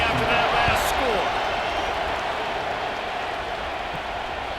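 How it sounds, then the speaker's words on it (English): High school football crowd in the stands buzzing after a score: a dense, steady roar of many voices and cheers, near and continuous. A commentator speaks over it. "this crowd is buzzing after that last score"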